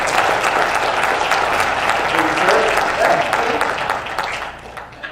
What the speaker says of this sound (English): let's give a big, warm round of applause for Mr.